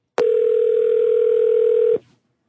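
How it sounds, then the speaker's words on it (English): A steady telephone dial tone on a prank call to a U-Haul rental office holds at one even pitch and loud level for nearly two seconds, then cuts off sharply. "They call a U-Haul place."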